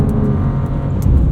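A 2026 BMW M2 CS with lowering springs and extra aerodynamics is driven hard at speed, heard from inside: a loud, steady engine drone mixed with heavy road and tyre roar, with no voices.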